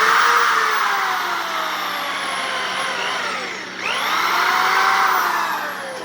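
A drill bores into a plastic block with a loud, steady whine that sags in pitch while the bit bites, dips briefly, then spins back up and runs on.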